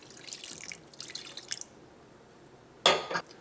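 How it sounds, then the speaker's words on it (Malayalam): Melted butter poured into rava cake batter with beaten eggs: soft, faint trickles early on, a quiet pause, then a short, louder splash near the end, with no voices. "ഇതിലേക്ക് നമ്മൾ മെൽറ്റ് ചെയ്ത് വെച്ചേക്കുന്ന ബട്ടർ ചേർക്കാം."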